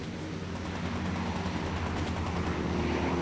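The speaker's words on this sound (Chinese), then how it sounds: "飞机" An air raid in a wartime film: a steady, dense roar like aircraft overhead fills the whole clip with constant loudness, and no voices are heard.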